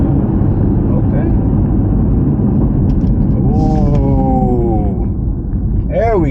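A warmed-up BMW M3 F80 pulls away in sport mode, its engine a loud, steady rumble from inside the cabin, with the pitch climbing and falling through the gears toward the end.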